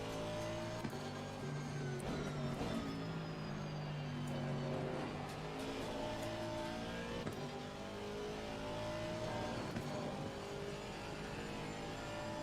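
A race car engine in the Assetto Corsa Competizione sim racing game, revving continuously with rising pitch sweeps through repeated upshifts and downshifts, steady and fairly loud with no voices.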